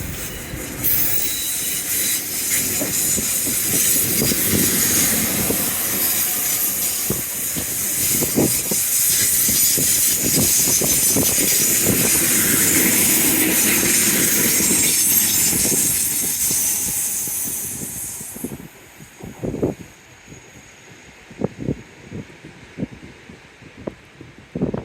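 A train passes along the seafront railway at Teignmouth with a loud rushing, hissing roar that swells and holds for about twenty seconds. It then fades to wind noise and scattered clunks.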